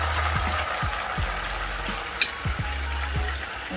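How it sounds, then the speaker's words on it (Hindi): Half-done chicken for chicken Bihari frying in a pot of hot oil, a loud, steady sizzle with bubbling and occasional clicks, close up and uninterrupted by voices. "चिकन अच्छे से फ्राई हो चुकी है, हाफ डन हो चुकी है"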